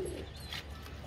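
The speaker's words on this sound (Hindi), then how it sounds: "एक कबूतर हमें पकड़ा ऑरेंज कलर वाला, बड़ा ज़बरदस्त" A captive orange-coloured pigeon coos in low, soft, rolling notes, loudest at the very start and then fading under steady background noise.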